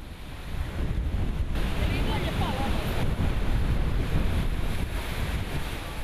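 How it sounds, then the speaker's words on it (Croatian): Strong bora wind gusting along the Dubrovnik coast in winter, a loud, steady roar of broadband wind buffeting the microphone with surf-like rushing underneath, continuous throughout with no talk. "Kad bura stigne u Dubrovnik,"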